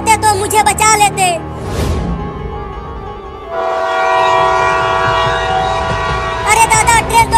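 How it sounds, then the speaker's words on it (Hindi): A cartoon train rumbles steadily toward the rails in a desi comedy animation, its sustained loud engine roar with a horn-like tone swelling in after a brief whoosh, bracketed by animated voices talking at the start and end. "ट्रेन तो फिर से आने लगी"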